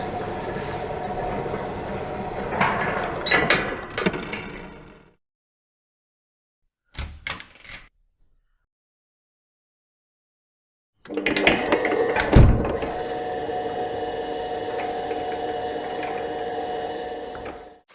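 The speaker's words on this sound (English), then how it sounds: "activates the sliding panel that goes up to reveal the front door of the headquarters" A sliding panel mechanism on a headquarters playset rises to reveal the front door, making mechanical whirring and gear-like rattling in two longer bursts separated by a silent gap with a few brief clicks.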